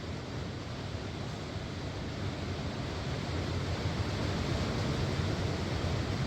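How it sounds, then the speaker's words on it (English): Steady, dense hiss of rain pouring down, a continuous broadband wash that holds even and unbroken throughout with no voices. "And here comes the rain."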